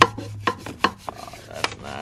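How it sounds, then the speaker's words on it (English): Scrubbing baked-on dirt off a 2020 JM 250 motorcycle, heard as a few short, close rubbing and rasping strokes at uneven intervals with quiet gaps between them. "You're scrubbing her too hard."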